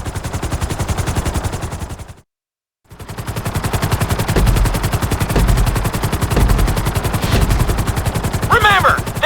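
A helicopter flies in GTA 5 flight school with a rapid, continuous rotor chop thudding at a steady beat, loud and close. It cuts out briefly for under a second, then resumes just as strongly.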